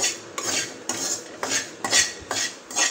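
Spoon scraping and stirring wheat halwa in a metal pan, a steady rhythm of about six scraping strokes with clinks against the pan, close and clear, no voices.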